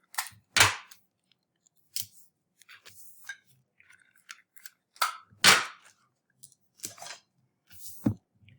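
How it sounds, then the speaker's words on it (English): Clear plastic book cover being taped over a hardback dust jacket: sharp, sporadic tape pulls and crisp plastic crinkles, close and loud in short separate bursts with quiet gaps between. "So now I'm going to tape the plastic. So I'm going to tape it up so that it won't move."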